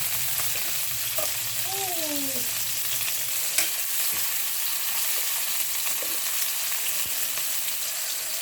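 Onion and tomato sauté in a pan for a Filipino ampalaya dish, giving a steady, close frying sizzle with occasional stirring scrapes throughout, no voices.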